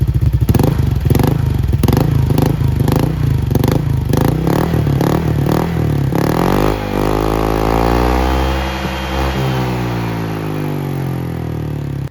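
A motorcycle engine idles and revs through an aftermarket MOKOTO exhaust pipe with its silencer fitted, with rhythmic throttle blips early on, then a steady, rising and falling drone, close and loud.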